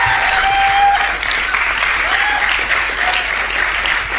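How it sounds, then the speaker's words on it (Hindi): A crowd at an Amway motivational talk keeps applauding at a steady, loud level, a thick unbroken patter of many hands clapping with no voices standing out. "तालियां बजाओ दोस्तों।"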